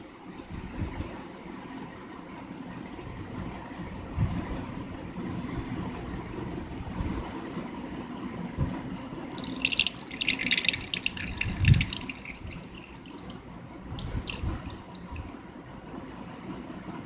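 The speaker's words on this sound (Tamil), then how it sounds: "இதை நம்ம வடிகட்டிக்கலாம்" Homemade rose water strained through a filter, with quiet running and trickling liquid, soft splashes and drips, and a brief brighter rush of pouring near the middle, fairly faint and close, with no talking.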